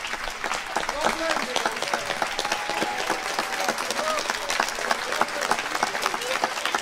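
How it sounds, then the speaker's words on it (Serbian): Audience applause greets rock legend Firče Ivan at an outdoor children's creative event, a steady wash of clapping with crowd noise and voices talking over it. "ja bih zavolio jednim velikim aplauzom da pozdravite Firče Ivana"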